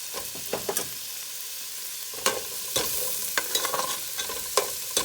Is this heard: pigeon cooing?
no